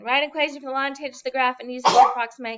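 A single abrupt sneeze bursts out in a classroom, briefly overlapping a teacher talking through a calculus problem.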